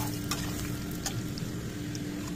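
Steady, soft sizzling of new potatoes frying in oil, with occasional faint clinks of stirring.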